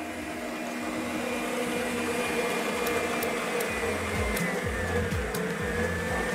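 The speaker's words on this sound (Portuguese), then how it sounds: "Agora a gente vai colocar na batedeira." An electric stand mixer running with gelatin in the bowl, a steady motorized whir with faint higher clicks, continuous and moderately close.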